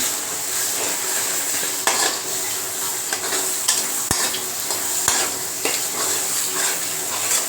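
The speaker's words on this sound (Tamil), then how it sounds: "அந்த பேஸ்ட்டையும் இதில் போட்டுக்கலாம் போட்டு அதையும் நல்லா மிக்ஸ் பண்ணிக்கோங்க" An onion-tomato paste sizzles in a garlic curry while a spoon stirs and scrapes against the pot, giving a steady close frying hiss broken by a couple of sharp utensil knocks.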